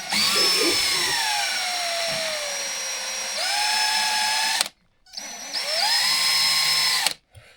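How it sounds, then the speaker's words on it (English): A power drill with a small bit boring through the head of a large bolt during a 1998 Polaris Liberty XC600 snowmobile teardown, a loud, close, high whine that shifts pitch under load, stops briefly, then runs again in a second long burst. "would drill with a small one until you get down to the actual fastener, and then the head just pops right off"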